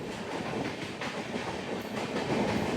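The Villupuram Superfast Express from Kharagpur Junction rushes through Nellore station without stopping, a loud continuous roar of wheels and carriages with rhythmic clatter, heard from close by.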